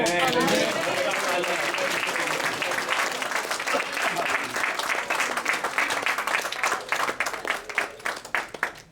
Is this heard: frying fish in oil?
no